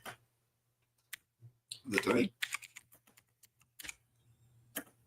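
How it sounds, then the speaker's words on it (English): Sparse clicks from a clicky computer keyboard, a few isolated keystrokes spread over several seconds, close and fairly quiet, with a brief burst of voice in the middle. "I've got a very clicky keyboard."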